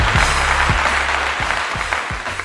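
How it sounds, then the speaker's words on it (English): Audience at a live church talk show applauding, a loud steady roar of clapping close by, with a few low thumps and faint voices mixed underneath. "Round of applause, of course."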